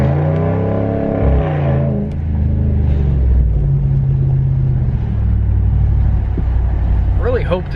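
Loud exhaust of a car with a Hemi 5.7L engine: a deep, continuous rumble swells and settles while driving. A voice is heard briefly near the start.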